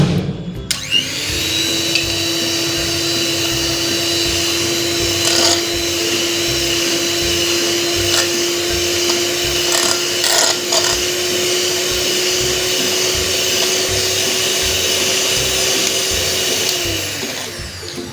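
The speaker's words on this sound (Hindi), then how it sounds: "तो इसे बीटर की मदद से फेंट लेंगे।" An electric beater whisks cream in a bowl for mango ice cream, giving a steady, loud motor whine that holds for most of the time, with faint scraping and clatter underneath, and no voices.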